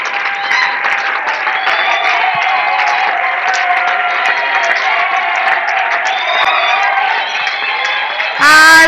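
Congregation at a French-language church service cheers and applauds in a loud, sustained wash of clapping and voices, with shouts and whoops throughout before a sudden louder burst at the end.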